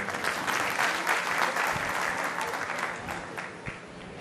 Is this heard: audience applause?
yes